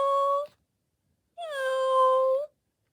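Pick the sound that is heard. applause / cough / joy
joy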